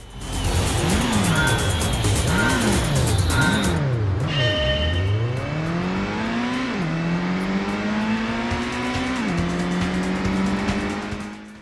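Race cars in the PlayStation racing game Gran Turismo, engines loudly revving and sweeping up and down through gear shifts with tire squeal, a continuous close roar with no talk.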